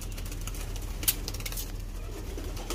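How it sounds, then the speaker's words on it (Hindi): Soft, low cooing from a pigeon repeats faintly against background noise, with a few light taps and rustles. "ये है वो कबूतर"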